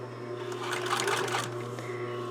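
A sewing machine straight stitches along the edge of a blouse facing in a short, steady close run of rapid needle strokes.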